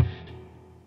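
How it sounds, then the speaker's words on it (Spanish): Reverb tail from a Two Notes Opus amp simulator: a short guitar attack that fades into a soft, smooth decaying wash lasting under a second, with no voices. "Lo prendo, escuchá cómo queda la cola del reverb."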